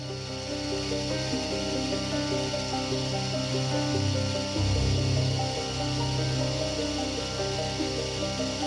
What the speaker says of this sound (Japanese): コック本体は平面でないのでセンタードリルから始めていきます。